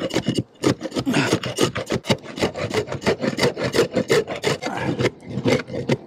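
A flat bar scraping old dried tar off a roof, rendered as rapid, steady rasping strokes in a continuous rhythm, close and fairly loud, with no talking.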